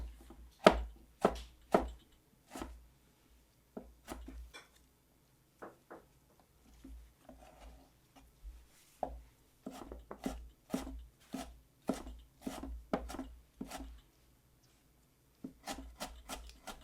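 A tomato being minced with a knife on a cutting board, irregular clusters of sharp taps against the board with pauses between bursts, close and quiet, no voices.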